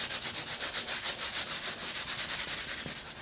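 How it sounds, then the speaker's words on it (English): Ultra sandpaper rubs over a cracked leather surface in quick, even back-and-forth strokes, a close, rhythmic scratchy swishing repeated steadily with no talk. "sand this area down a bit with our ultra sandpaper"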